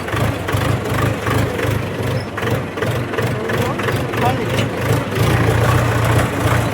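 A tractor engine idles low and steady throughout with a rhythmic thrum, close by, after unloading fertilizer, mixed with background chatter.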